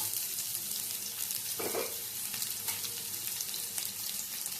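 Onions hit a pan and fry with a continuous close sizzle and crackle, a brief burst of louder spattering early on, then steady frying noise.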